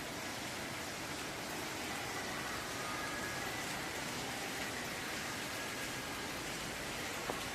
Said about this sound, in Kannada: ಈ ಥರ ಮಳೆ ಹತ್ತಿ ಬಿಟ್ಟೈತಿ ನೋಡ್ರಿ